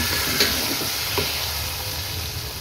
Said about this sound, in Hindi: अब मैं इसी का फ़ौरन बघार लगा दूँगी हलीम में, इससे कलर बहुत अच्छा आता है।